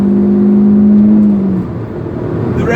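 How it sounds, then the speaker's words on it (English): Proton Iriz 1.6 manual hatchback engine on the move, holding a steady hum before the revs drop and the note falls away as the car slows using engine braking; the engine is close and clear, with no talking. "The revs actually stay up a little bit for, it's like a poor man's rev matching."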